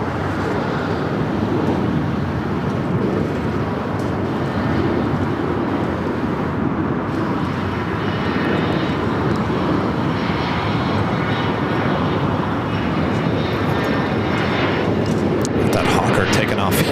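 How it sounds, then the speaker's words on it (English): A Hawker jet takes off from the south side at LAX, heard as a loud, steady engine roar that holds throughout, with radio-style talk over it. "That Hawker taking off here on the south side."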